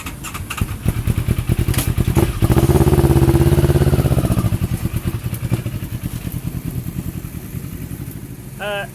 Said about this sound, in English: Dave's about to head out on the Brewers Racing Twin.